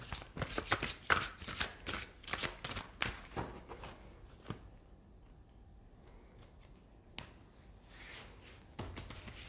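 Oracle cards being shuffled by hand, a quick run of crisp riffling flicks and slaps up close for several seconds, then a near-silent pause broken by a few isolated taps and a last brief flurry.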